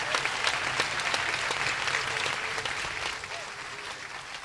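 Audience applause at a UN Day school ceremony, a sustained, even wash of many hands clapping at moderate distance, holding steady throughout before easing slightly at the end.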